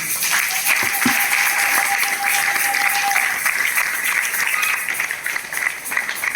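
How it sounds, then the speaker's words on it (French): A church congregation applauding during a sermon, sustained loud clapping from a large crowd filling the room, with a brief tonal whistle or hum and faint voices mixed in. "Est-ce qu'on peut acclamer la parole de Dieu?"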